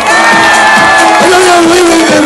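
A crowd at a dance competition in Jeonju Hanok Village cheers, whoops and shouts loudly and continuously for a contestant, with a steady sustained tone running underneath.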